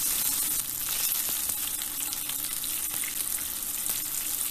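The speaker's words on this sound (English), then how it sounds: "Fry the kebabs for about 2 minutes on each side." Lentil kebabs fry in a hot pan for a vegan kebab roll, giving a steady, dense sizzle and crackle that fills the whole stretch at close range, with a few small pops and no voices.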